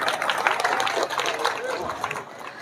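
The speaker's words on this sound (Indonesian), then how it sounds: "Iya, tepuk tangan dulu." Audience applause during a religious lecture: a dense burst of clapping from a crowd, steady and fairly close, with chatter underneath before it thins out toward the end.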